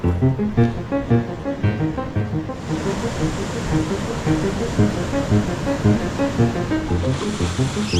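Ocean swell breaks at a surf spot in Angola in a steady, loud rushing roar with rolling surges. A voice talks over the surf.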